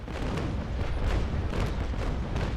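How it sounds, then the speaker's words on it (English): A ship's cannon broadside fires in the naval battle game Naval Action, a dense run of heavy overlapping booms and rumbling blasts rolling continuously for a couple of seconds, moderately loud with no voices. "Okay, getting ready for another broadside, and come on"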